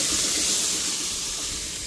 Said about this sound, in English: So all that cold water is gonna steam out and clean the grates really good.